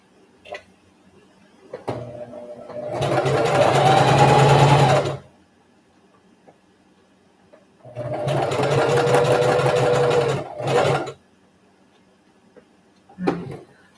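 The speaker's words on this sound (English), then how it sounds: "I need to sew a little lace back there" A sewing machine stitches lace onto pyjamas in two steady runs of about two and three seconds, separated by quiet pauses with a few small clicks and handling knocks.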